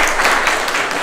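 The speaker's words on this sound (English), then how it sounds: "please applause for the last time." An audience at a general assembly applauds in a dense, steady wash of many hands clapping, loud and continuous throughout with no pauses.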